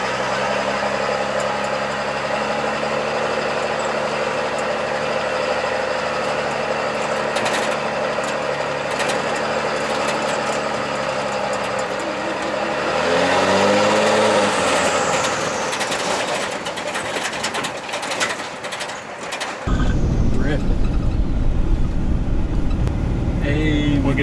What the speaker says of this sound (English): I'm gonna let it sit and idle.